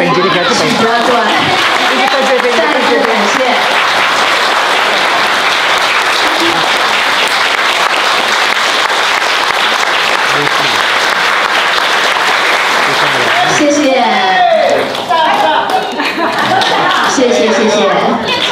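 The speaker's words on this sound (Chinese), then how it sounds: "掌声好吗？非常的感谢赞助者们" An audience applauds sponsors at a gathering, a loud, continuous wash of clapping with crowd murmur, and voices speaking over it at the start and again near the end.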